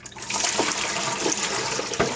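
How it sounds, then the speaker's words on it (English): Water from a Drinkwell Platinum pet fountain is poured into a sink in a continuous, splashy gush with a few heavier sloshes near the end. "I'm going to dump all that water out."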